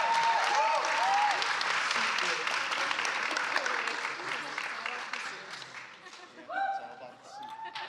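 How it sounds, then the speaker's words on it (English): An audience at a spring startup discovery showcase applauds steadily and loudly for a winner, with dense clapping and cheering mixed with voices and whistles, gradually easing off before a brief swell. "Keep those rounds of applause going."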